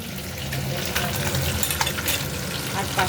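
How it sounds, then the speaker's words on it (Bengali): Parshe fish fry in a pan of hot oil, giving a loud continuous sizzle with crackling spits and pops close up and no talking. "আর পার্শে মাছ ভাজা হচ্ছে"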